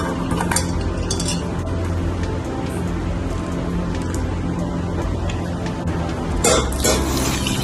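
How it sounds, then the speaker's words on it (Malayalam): Washed sambar dal lentils are tipped into a pressure cooker, with scattered metallic clinks, scraping and stirring against the pot, and a louder clatter near the end. "ഇനി ഒരു കുക്കർ എടുത്ത് അതിലേക്ക് പരിപ്പ് ചേർത്ത് കൊടുക്കാം."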